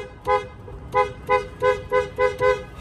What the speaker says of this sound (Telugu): హారన్ ఇన్నిసార్లు కొట్టాను